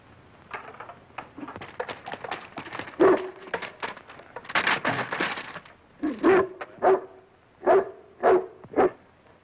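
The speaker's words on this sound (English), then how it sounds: "It's a dog." A dog in a car barks repeatedly in an old comedy film, starting with busy scuffling and whimpers, then loud close barks in a spaced, rhythmic series toward the end, with no talk over them.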